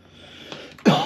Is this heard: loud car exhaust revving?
no